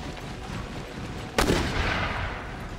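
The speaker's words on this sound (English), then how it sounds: "More howitzer fire inbound." Howitzer artillery fires in the video game Empire Total War: a single sharp, loud boom lands partway through and rolls into a decaying rumble over continuous battle noise.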